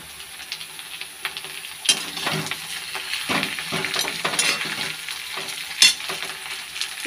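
A fish head frying in a pan of oil with onion and dried chilli sizzles loudly up close while a utensil scrapes and stirs it in irregular strokes, with no voices.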